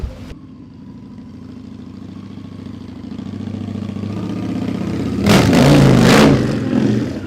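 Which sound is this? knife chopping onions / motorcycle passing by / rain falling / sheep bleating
motorcycle passing by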